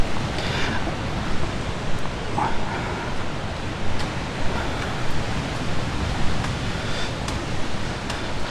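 Surf rolls onto a beach at a resort in the Dominican Republic, a steady wash of breaking waves with some wind, heard alone without talking.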